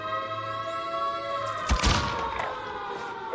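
A frag grenade explodes in a video game. One booming blast lands midway, rising out of a steady droning background of game sound.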